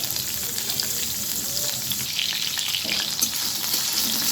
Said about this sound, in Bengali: আলুগুলো একটু ভেজে নিলাম